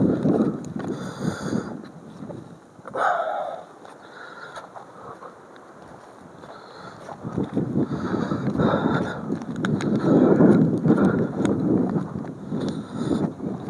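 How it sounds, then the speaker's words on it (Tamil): Strong wind gusts with rain on a walk in the Nilgiri hills between Ooty and Kotagiri, roaring across the microphone in loud surges that ease and build again, with a faint voice briefly present. "காற்று பலம் அடிக்குது பாருங்கள்"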